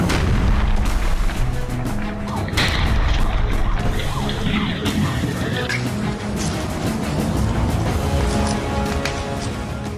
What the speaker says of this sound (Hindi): यूक्रेन ने जो मिसाइल से हमला किया, विस्फोट किया